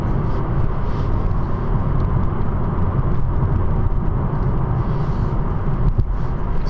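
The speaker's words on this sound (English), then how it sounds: "So signal left, check, and accelerate to get over there" Engine noise from inside a car accelerating on a road while changing lanes, a steady, loud low rumble and whir that holds throughout.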